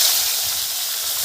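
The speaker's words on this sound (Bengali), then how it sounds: "তেল গরম হয়ে গেছে, দিয়ে দেব মাছ।" Lata fish fries in hot oil in a kadai, a steady, loud hissing sizzle that stays constant throughout without pause.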